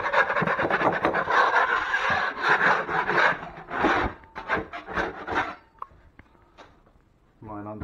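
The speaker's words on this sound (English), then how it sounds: "I'm just going to go ahead and scrape that caulking line off" Scraping an old caulking line off kitchen cabinets with a hand tool, a dense rasping scrape repeated in quick strokes for several seconds, then a few sparser scratches, with a voice speaking near the end.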